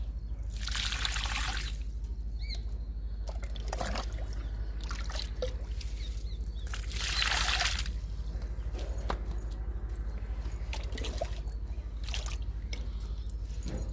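Liquid fertilizer pouring onto tomato plants in a garden, a soft splashing trickle that swells in two louder bursts over low steady background noise.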